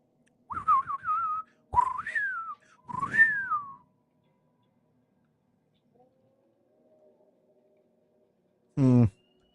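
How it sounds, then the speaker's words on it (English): A whistle is used in the video game Lord of the Rings Online, giving three clear, close, sliding whistle calls in quick succession, followed by near silence and a brief voiced sound. "This would be a good place to use the whistle."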